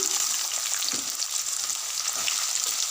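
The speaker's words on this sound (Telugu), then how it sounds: "ఇప్పుడు స్టవ్ మీద మూడు నాలుగు స్పూన్ల ఆయిల్ పెట్టుకొని జీలకర్ర సన్నగా తరిగి పెట్టిన ఉల్లిపాయలు వేసి" Chopped onions and cumin seeds fry in three or four spoons of hot oil on a stove, giving a steady, dense, close sizzle that carries on without a break and has no voices over it.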